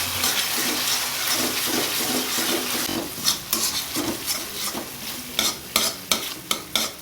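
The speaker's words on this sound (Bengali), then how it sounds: "ভালো করে মিশিয়ে নিচ্ছি।" A tomato sauce mixture for egg tadka is stirred in a hot pan, first as a dense sizzle and then as a run of distinct rhythmic scraping strokes and clacks of the spoon against the pan.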